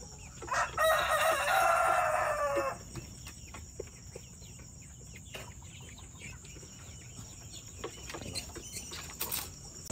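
Roosters crow loudly and close by at a poultry farm housing breeder hens, a long rising crow filling the first few seconds, followed by scattered soft clucks and farmyard noise.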